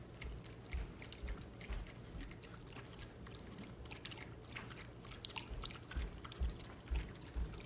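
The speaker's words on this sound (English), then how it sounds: "I am watering her food down still" Water is poured onto dog food in a bowl, with a soft, close pour and scattered wet clicks and crunches, as if the dog is eating.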